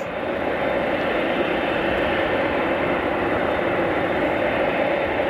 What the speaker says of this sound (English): Oh, Cargolux 747.